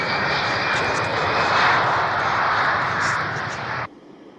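Steady, loud airliner engine roar in flight fills the cabin as a broad wash of noise, holding level for nearly four seconds before dropping off abruptly.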